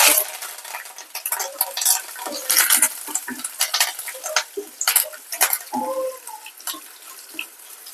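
A tempering of seasonings fries in a pan for a spinach and onion-chilli dish, crackling and sizzling close by while a spoon scrapes and stirs in quick, uneven bursts, no voices.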